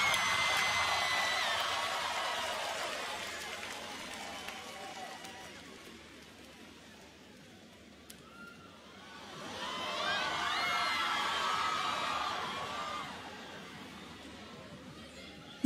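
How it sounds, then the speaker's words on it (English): A large festival crowd at a live pop concert cheers and shouts in two swelling waves, loud at first, fading away, then rising again, with no speech over it. "you should give yourselves a round of applause"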